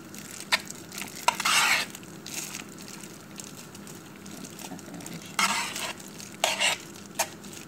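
Macaroni is stirred into bechamel sauce in a pan, giving soft, wet squelching scrapes in several uneven bursts separated by quieter pauses, close and fairly faint.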